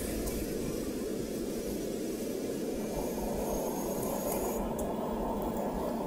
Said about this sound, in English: let's have 2 sets of flaps to about 5 degrees, and let's take off